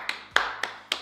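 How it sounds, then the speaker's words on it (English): Four sharp, separate hand claps, spaced about a quarter second apart, in a quiet indoor space. "Give round of applause."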